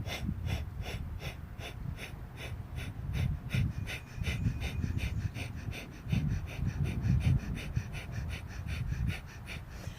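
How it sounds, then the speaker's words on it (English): Rapid pumping breathwork with a steady, fast rhythm of forceful breaths in through the nose and out, close and continuous for about ten seconds with no talking. "So you take a deep inhale through your nose, and then exhale, we're going to pump."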